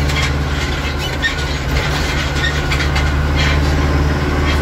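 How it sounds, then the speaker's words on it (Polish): A very loud farm tractor with a noisy exhaust silencer roars steadily while harrowing a field, a dense continuous engine drone running throughout. "Słyszycie, jak farmer ryczy? Najgłośniejszy ciągnik chyba w wiosce albo w gminie"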